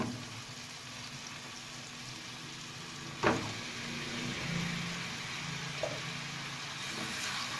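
Potatoes frying in hot oil give a steady, quiet sizzle that runs throughout, with one sharp clatter near the middle and a softer knock later.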